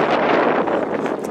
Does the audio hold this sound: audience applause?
no